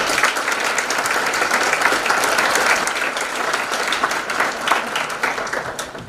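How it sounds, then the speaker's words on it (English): Sustained applause from a large audience, dense and steady clapping filling the whole stretch without letting up. "let's have a big round of applause for all of our parents"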